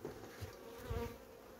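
Bees buzz steadily at a vertical beehive during syrup feeding, a low drone with a few deeper thumps, close by and with no voices.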